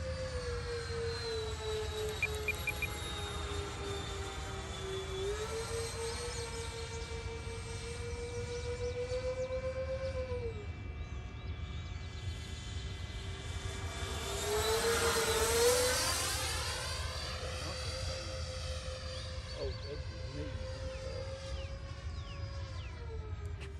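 A Freewing F-14 Tomcat RC jet with twin 80mm electric ducted fans flies overhead, its steady high-pitched whine rising and falling as it passes, swelling loudest mid-pass before easing off again.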